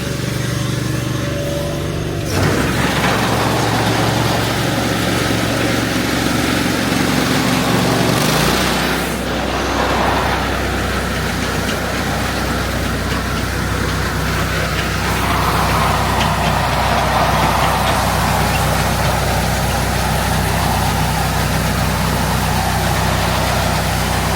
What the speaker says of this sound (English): we've let the auger warm up for 10 minutes